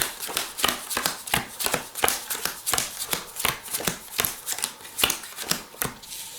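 Playing cards dealt one at a time into two piles during a card trick, a steady run of crisp, close card snaps and slaps with no talking.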